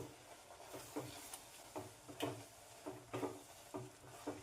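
Sesame and gulkand modak mixture stirred steadily in a pan, giving soft repeated scraping strokes with a faint sizzle beneath, close and fairly quiet with no talking.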